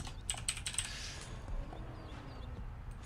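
Quick bursts of keyboard typing during a Prison Architect gaming session, a cluster of close, light key clicks early on that trail off into quiet room noise.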